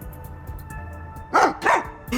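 A dog barks twice in the Rain Code video game, two sharp, close barks over a low ambient hum and faint clicks.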